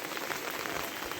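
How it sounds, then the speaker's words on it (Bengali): Steady rain falls outdoors in a rural waterlogged area, a dense, even hiss of drops striking surfaces, moderately faint and continuous with no voices. "বৃষ্টি শুরু হয়ে গেছে।"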